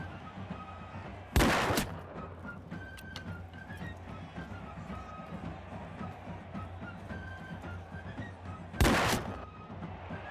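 Musket volleys in Mount & Blade II: Bannerlord, set in 1700s Europe: two sharp, loud shots several seconds apart over a steady murmur of battlefield background noise.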